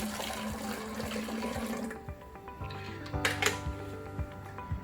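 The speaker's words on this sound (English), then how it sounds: "I'm going to add about a cup of water to this" Water streams from a cup into a large tea container, a splashing pour that tapers off and gives way to faint drips and clinks.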